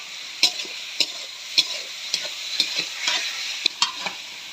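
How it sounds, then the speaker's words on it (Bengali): Pigeon meat sautéing with spices in a pan, a soft steady sizzle broken by regular sharp scrapes and clicks of a spoon stirring, close and quiet, with no talking. "মাংস কষাই নিচ্ছি"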